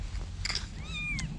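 A cat gives one clear, rising-then-falling meow close by outdoors, with brief rustling and a faint voice just before it.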